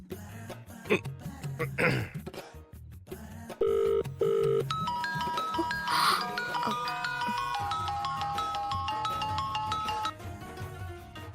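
A telephone rings during an outgoing call in a Tamil TV drama: two short tonal beeps, then a sustained melodic ring, preceded by throat clearing and a cough.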